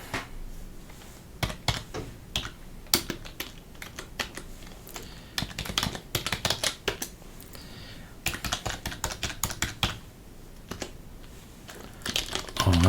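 Quick bursts of clicky keystrokes on a computer keyboard, irregular clusters of typing separated by short pauses, close and fairly crisp.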